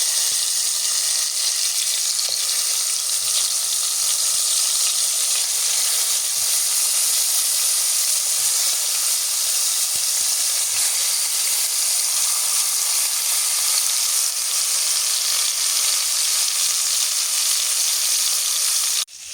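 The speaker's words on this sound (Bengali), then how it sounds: "প্যানটা গরম করে তেল দিয়ে দিচ্ছি এখন মাছ দিয়ে দিই" Fish frying in hot oil in a pan, a steady loud sizzle and hiss that runs unbroken for the whole stretch with no voices.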